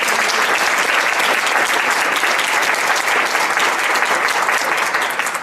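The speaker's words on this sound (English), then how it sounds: "let's give a huge round of applause to Sue Marsh for all of her work" Sustained, dense audience applause at a step-down ceremony fills the space evenly and loudly, a steady wash of clapping that holds throughout without breaks or voices.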